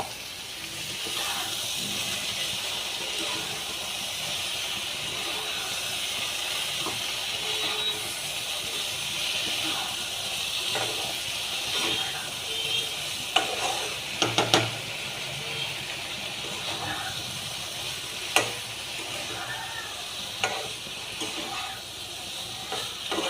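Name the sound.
soybeans frying and sizzling in spiced masala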